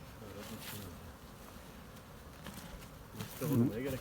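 Honeybees hum steadily around a hive at a pine-honey apiary near Antalya, a low, even buzzing throughout with a brief louder swell near the end and a voice in the background.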